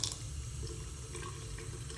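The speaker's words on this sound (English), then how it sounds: "So we're gonna turn on the water." A kitchen tap runs steadily into a sink, making a continuous close splashing hiss with a faint drip near the start. No one speaks.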